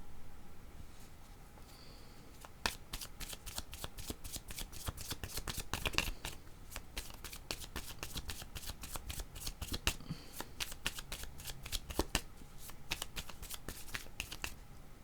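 Tarot cards shuffled steadily for a long stretch, a dense run of crisp riffling clicks and slaps with brief pauses, close and fairly quiet with no talking.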